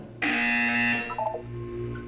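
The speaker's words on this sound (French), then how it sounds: "Vous allez entendre une sonnerie." A loud, bright electronic buzzer in Portal 2 sounds for under a second, followed by a quick little chiming melody of synthesized notes over a steady low hum.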